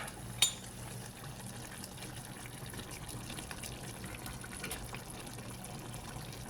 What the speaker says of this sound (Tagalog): Uy! Kumulo na siya.